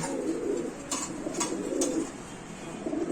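White King pigeons cooing nearby, soft low rolling calls repeating in overlapping phrases, with a few faint clicks in the background.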